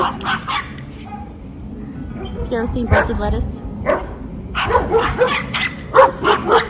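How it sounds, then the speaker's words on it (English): Dogs bark in short, sharp bursts and yips scattered throughout, close and loud, overlapping with a person talking in a garden. "Dogs are dogging."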